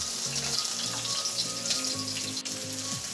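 Capsicum sizzles in hot oil in a wok while Hakka noodles are being prepared, a steady close crackle and hiss with faint clinks and a low hum underneath, no talk.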